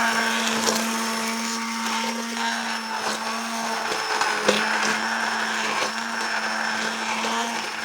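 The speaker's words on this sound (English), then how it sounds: "blitz all of that sauce so that everything breaks down and we get a really lovely sort of smooth, creamy sauce" A kitchen blender blitzes a hot paneer curry sauce into a smooth purée, its motor whining steadily at close range with a constant tone and slight dips in pitch as the load shifts, running alone throughout.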